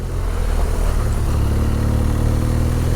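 A big BMW motorcycle engine droning steadily while riding on a road, a low, even rumble with wind noise that holds constant throughout, with no talk.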